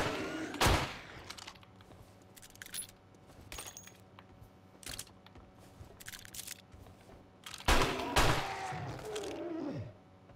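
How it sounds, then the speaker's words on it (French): Gunfire from a player's weapon in 7 Days to Die on PS5: a few sharp, loud shots spaced several seconds apart, with quieter clicks and game ambience in between. "On va le finir au flingue."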